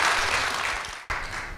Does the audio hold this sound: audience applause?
yes